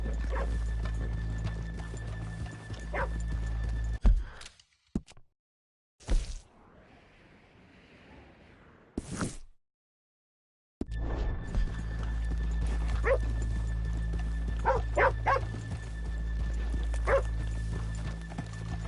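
Horses clip-clop and whinny nearby in the Red Dead Redemption 2 video game, with a dog barking too. Steady hoofbeats run for several seconds, break off into near silence, then return.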